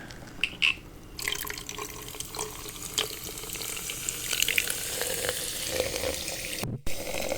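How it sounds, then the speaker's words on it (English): Liquid is poured with a continuous trickling, splashing stream, broken by a few sharp clicks and a brief pause near the end; close and intimate, with no talking. "And I am going to pour it."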